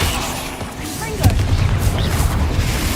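A Confringo fire spell blasts in the Hogwarts Legacy video game, a sharp boom at about one second trailed by a rumbling low burst under continuous game noise and low voices.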